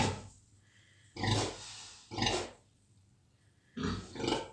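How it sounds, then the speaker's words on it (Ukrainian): A guinea pig in its cage makes three or four short, close bursts of rustling and snuffling noise, separated by quiet pauses, with no talk. "ось таким чином свинка розміщається тут доволі-доволі спокійно"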